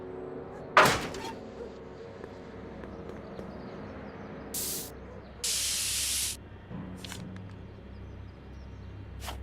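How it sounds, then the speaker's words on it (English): Spray paint hissing onto a wooden plank in the Back to the Future video game: a short burst, then a longer one of about a second, after an earlier sharp knock and faint background sounds. "Try using Denver spray paint on the plank of wood."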